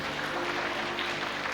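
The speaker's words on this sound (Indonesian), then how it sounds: "Tepuk tangan buat kita semua." Steady applause from a crowd, a dense wash of clapping that holds evenly throughout with no pauses.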